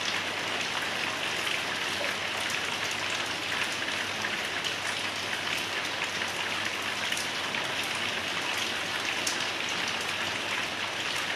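A steady downpour drums continuously across surfaces in northern Bangladesh following a severe heatwave, a thick, unbroken wash of rainfall that holds level throughout, with no one speaking.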